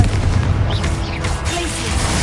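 Confringo spell blast in Hogwarts Legacy, a loud booming burst with a rumbling low rush that fills the moment, followed by a crackling tail.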